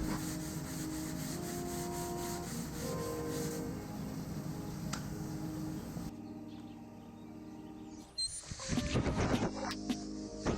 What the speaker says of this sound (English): block it down with some 80 grit sandpaper and just keep that block flat